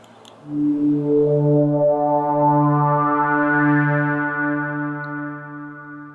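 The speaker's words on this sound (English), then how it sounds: "just a preset for a pad." A synthesizer pad preset played in Ableton swells in as a sustained, harmonically rich chord, holding steady and loud for about six seconds before easing slightly, with no talking.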